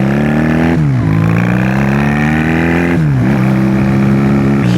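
Honda Rebel 250 motorcycle engine revving hard and climbing in pitch, dropping sharply at two gear shifts before pulling up again, loud and close throughout with no talking.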